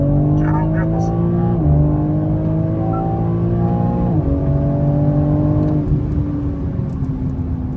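A BMW M3 accelerates at full throttle, its engine loud and close as the revs climb in stepped rises, with short drops at each gear change. A voice talks over the engine.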